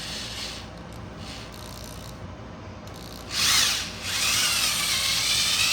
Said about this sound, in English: And we'll just start drilling.